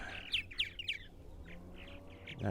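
Three quick, bright purple martin chirps come close together at a fully occupied martin house on eastern Long Island, New York, followed by softer, more distant chirps against quiet outdoor background.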